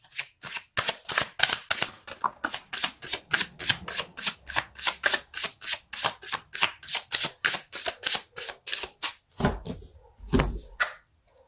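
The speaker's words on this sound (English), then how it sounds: "Let's pull a card for your challenge." Tarot cards shuffled by hand in a rapid, regular run of crisp riffling bursts, close and fairly loud, ending with a few looser slaps as the deck settles.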